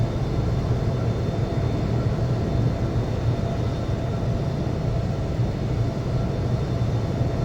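In the Infinite Flight video game, a TUI Boeing 737 MAX 8 taxis with a steady, even engine rumble and whine, continuous and unchanging throughout.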